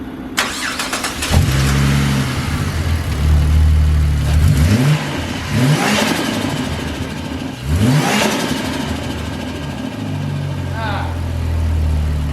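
A Ford Falcon engine cranks and starts after repairs, then revs up several times in rising surges before settling back to a steady idle, loud and close.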